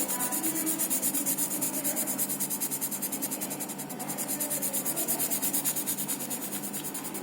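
A 3B pencil shades firmly across paper to build a darker tone, making a close, continuous scratchy rubbing with a quick rhythmic back-and-forth pulse and no talk.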